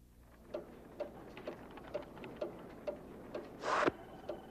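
A clock ticks at a steady pace of about one tick per second, close and distinct, with a short whooshing burst near the end. No one speaks over the ticking.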